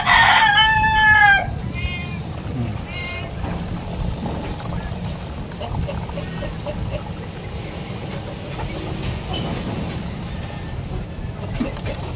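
A rooster crows loudly and close at the start, then the crowing fades into a steady rumbling background with faint clucks and scattered noises.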